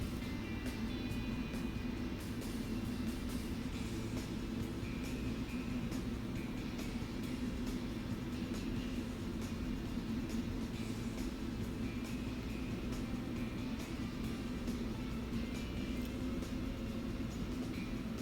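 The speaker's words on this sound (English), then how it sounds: "the way that the train behaves when it's going backwards, as it is right now" An N scale model train runs backwards on a modular open helix layout, a steady, even mechanical hum that continues without a break from start to finish.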